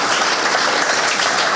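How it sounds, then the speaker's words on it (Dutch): Loud, dense applause from an audience honoring a poet, a brief continuous burst of many hands clapping close and steady throughout. "applaus voor de dichter"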